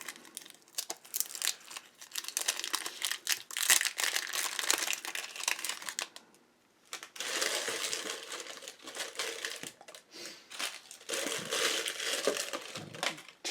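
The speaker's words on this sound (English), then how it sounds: "Those wrappers don't wad up very well." Cellophane wrappers from 1981 Topps baseball card grocery packs are crumpled and wadded close by, a dense crackling crinkle that runs steadily, pauses briefly, then resumes.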